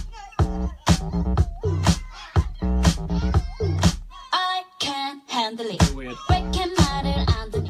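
K-pop track plays loud and dense with punchy beats, layered synths and sung vocals throughout.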